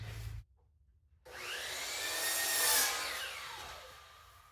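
A power tool cuts slots in wood for a winter chicken coop nesting box: after a brief silent gap, a motor whine starts up, rises and swells, then eases off as the blade works through the board, close and loud.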